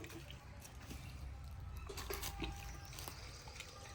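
Water is poured into a glass at a village cooking spot while bamboo chicken biryani is prepared. It makes a steady, faint splashing wash over low outdoor rumble for the whole stretch.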